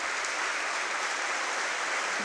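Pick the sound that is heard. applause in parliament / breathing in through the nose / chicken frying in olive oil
applause in parliament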